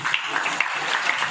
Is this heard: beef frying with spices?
no